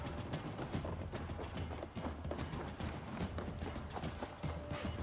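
Horse hooves clip-clop steadily in Assassin's Creed Valhalla, a quiet, rhythmic gait with faint mechanical clicks and no talking.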